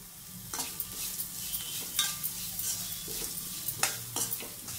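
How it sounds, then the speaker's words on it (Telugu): Poha upma being stirred in a pan after salt and turmeric are added, a steady scraping and rustling of a spoon through the food with a soft sizzle underneath and repeated sharper scrapes against the pan, close and alone. "సాల్ట్ సాల్ట్ వేసుకున్నాం కదా, మరలా ఒకసారి అంతా కలుపుకుందాం."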